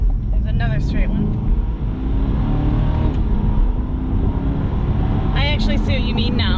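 A 2021 Chevrolet Corvette Z51 engine hums as a steady, fairly quiet low rumble while the car is driven, heard from inside the cabin under ongoing conversation.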